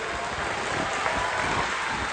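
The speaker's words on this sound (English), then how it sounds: "I'd like to request once again a round of applause for Mr. Joseph," Applause from an audience at a Don Bosco music fest in Itanagar, a dense steady wash of hand claps that stays loud and even throughout, with no talk over it.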